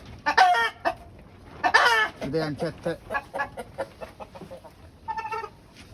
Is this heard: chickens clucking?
yes